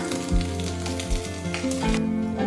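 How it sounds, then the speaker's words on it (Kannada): Ginger and green chillies fry in hot oil in a pan for hotel-style veg fried rice, giving a loud, steady sizzle with a few stirring knocks, close by and free of talk. "ಒಂದು ಸ್ಪೂನ್ ಶುಂಠಿ ಹಾಕ್ತಾ ಇದ್ದೀನಿ ಎರಡರಿಂದ ಮೂರು ಹಸಿಮೆಣಸಿನ್ಕಾಯಿ ಹಾಕ್ತಾ ಇದ್ದೀನಿ ಸ್ವಲ್ಪ ಫ್ರೈ ಮಾಡ್ಕೊಳ್ಳೋಣ"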